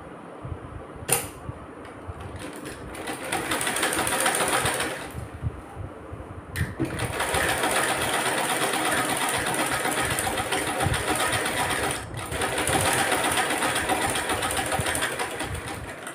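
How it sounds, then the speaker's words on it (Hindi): A sewing machine runs steadily while stitching a straight seam on a cushion cover, a loud continuous mechanical whir with brief pauses and clicks, no talk. "इस पे भी यहाँ से ऐसे ऐसे सीधी सिलाई लगा देंगे"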